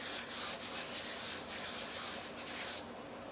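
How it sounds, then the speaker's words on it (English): Soft, rhythmic rubbing strokes of sandpaper lightly sanding painted wood, close and quiet, repeating in a steady back-and-forth pattern before stopping. "I'm just gonna do a light sanding over the top of them"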